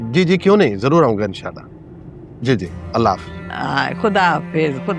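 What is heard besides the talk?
None of the usual background noises is heard.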